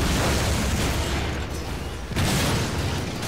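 Loud, sustained explosive roar from the Lost Planet video game, a thing blown apart in a big blast with rumbling debris, a brief dip, then a second surge of blast noise.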